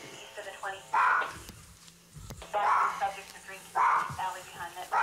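A dog barks at the back gate by a narrow alley while police officers are on a call: several loud bark bursts in uneven groups, close by, mixed with people talking.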